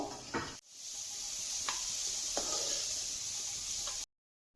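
Small chopped bitter gourd pieces frying in a pan, giving a steady, even sizzle that holds for about four seconds, with a few faint clicks of stirring and no talking.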